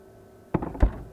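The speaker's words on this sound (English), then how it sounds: "I'm gonna close the doors." Two fridge doors swing shut one after another, each giving a dull thunk with a brief rattle, the second louder, in a quiet kitchen with no talk.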